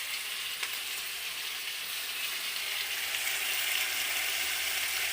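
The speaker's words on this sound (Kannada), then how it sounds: "ಈಗ ಅದನ್ನು ನಾನು ಬಾಡಿಸಲಿಕ್ಕೆ ಇಟ್ಟಿದ್ದೇನೆ. ಸ್ವಲ್ಪ ಎಣ್ಣೆ ಹಾಕಿದ್ದೇನೆ ನಾನು" Soya chunks frying in a little oil in a pan give a steady, close hiss and sizzle that holds even throughout, with no talking.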